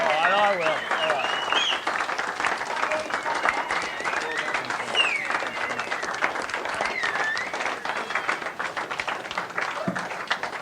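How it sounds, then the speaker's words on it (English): An audience gives sustained applause for Russell Coight, the All Aussie Adventure host. The clapping is dense and steady, with some cheering and voices mixed in, and it fades slightly toward the end. "We'll give him a round of applause"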